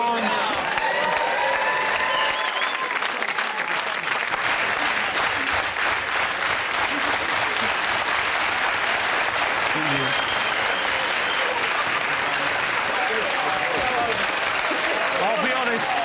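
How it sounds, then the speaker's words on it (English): Studio audience at a comedy panel show clapping fast and loud, sustained dense applause with cheering and crowd voices running underneath for the whole stretch. "you started that fast clap way too soon"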